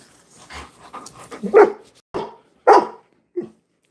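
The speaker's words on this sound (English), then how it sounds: "Look at these dogs over here." Dogs bark several times in short, separate bursts, close and fairly loud, with whimpering and low yips between the barks.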